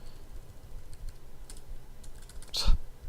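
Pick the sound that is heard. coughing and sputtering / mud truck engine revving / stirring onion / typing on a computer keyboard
typing on a computer keyboard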